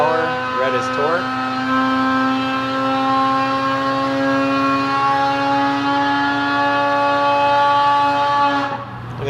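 A 2018 Polaris Axys 800 snowmobile engine with a Bikeman Stage 3 build runs hard on a dyno. It holds a loud, steady high-rpm whine, over-revs, then drops off near the end.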